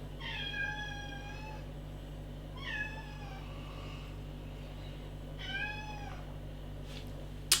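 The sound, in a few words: cat meowing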